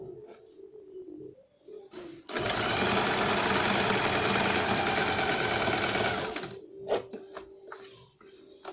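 A domestic sewing machine stitches a double seam on a princess-cut blouse, whirring in one steady, loud burst of about four seconds, with quieter handling sounds of fabric before and after.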